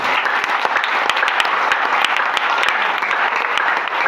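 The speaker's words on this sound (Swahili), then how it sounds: "Piga makofi mazuri" Church congregation clapping together at a Sunday service, a dense, steady wall of applause from many hands that fills the space evenly with no pauses, loud throughout.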